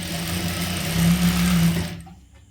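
An electric sewing machine stitches a chudidar lining with a rapid, even whir that swells slightly, then stops near the end and leaves quiet.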